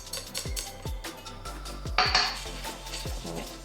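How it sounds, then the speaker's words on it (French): Sifted flour is stirred into chocolate batter with dark chocolate chips in a bowl, giving a steady run of close metal-on-bowl clinks and scrapes in a regular mixing rhythm, with no talk. "On vient rajouter la farine tamisée."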